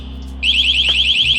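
A CRANNS motorcycle anti-theft alarm sounds a loud, shrill electronic tone that warbles rapidly and steadily, starting abruptly over a low, constant background hum and continuing without a break.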